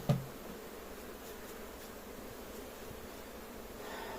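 Bees being transferred from a nucleus box into a full hive give off a steady, low, diffuse buzzing that holds evenly throughout after a brief knock at the start, with no talking.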